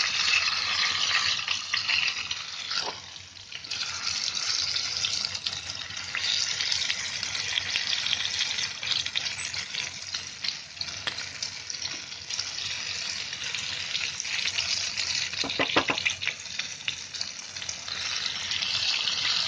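Whole pomfret (halwa) fish frying in oil in a pan gives a steady, fairly loud hiss and sizzle throughout, with a few brief scraping taps as the fish is turned.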